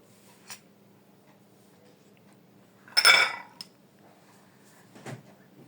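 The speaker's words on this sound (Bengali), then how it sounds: "এভাবে করে আমি গোল গোল করে উঠাই নিচ্ছি চামচ দিয়ে" A spoon scooping round portions of homemade ice cream: one scraping, clinking scoop in the middle, with fainter taps of the spoon before and after in a quiet room and no talk.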